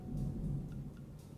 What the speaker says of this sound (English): I don't know if you heard that thunder.